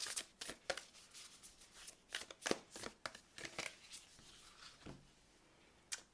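A deck of oracle cards is shuffled by hand close by, producing a run of quick papery riffles and flicks, then a pause and one last soft snap.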